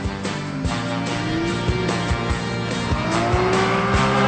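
Toyota Cresta JZX90 drifting, its engine revving hard with rising and falling pitch while tires squeal loudly and continuously, close and steady throughout.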